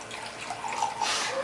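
Water poured from a container for a recipe that goes on to add vanilla, a short steady trickling splash heard alone at close range, swelling slightly toward the end.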